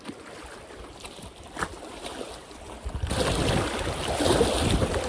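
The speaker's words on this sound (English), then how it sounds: "The wind's starting to pick up now" Wind rising at Lake Burbury, a low rush that swells partway through into a louder, steady roar of gusts buffeting the microphone near the water.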